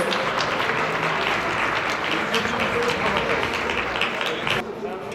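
Dense, loud, sustained audience applause fills a Turkish municipal award ceremony honoring Sincan's mayor, easing off slightly in the final half second.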